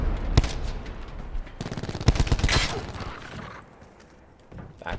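Automatic gunfire in a shooter game played on hardcore: loud rapid bursts of shots with a long rattling volley in the middle, then quieter ambience and scattered rounds.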